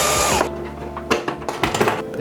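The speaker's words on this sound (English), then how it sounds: "So let's drill that in." Power drill boring holes in the bumper of an RC4WD Trail Finder 3 scale RC truck, heard as a close, loud motor whine that stops, then returns in a few short bursts.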